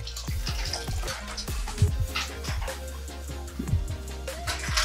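Running water from a tap wets a washcloth during female catheter care. A steady splashing flow continues close by with irregular drips and splats throughout.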